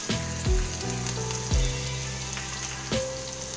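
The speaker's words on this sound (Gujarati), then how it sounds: "હવે આપણે જે લસણ લીધેલું છે તે એડ કરીશું" Garlic hits hot oil while Kathiyawadi sev tameta nu shaak is cooked, giving a close, steady frying hiss with a few low clunks at the pan and no talking.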